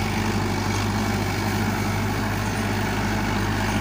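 A Mahindra Arjun 555 DI tractor engine runs steadily with a deep, constant low drone and even idle-like hum, heard alone without talk.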